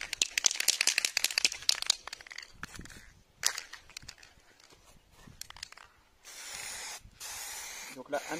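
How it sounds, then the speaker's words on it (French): An aerosol spray can puts down a varnish coat in several hissing bursts of a second or two, close and fairly loud, with short pauses and a longer final spray. "Là, premier passage tranquillement à la bombe."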